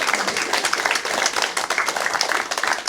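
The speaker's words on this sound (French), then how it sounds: "Allez, vous pouvez les applaudir." Audience applause at a church forum, a dense burst of many hands clapping close and loud, steady throughout with no pauses.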